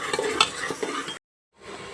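Masala for rajma being sautéed and stirred in a pan, a close, busy scrape and sizzle of a spoon working the spices that stops abruptly mid-clip before resuming more faintly.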